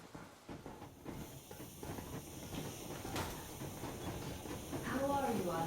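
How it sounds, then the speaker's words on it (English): A steam train starts moving in the video game Metro Exodus, with hissing steam, rumbling carriages and rising mechanical clatter that grows louder toward the end, while voices talk over it. "Yermak, full steam ahead."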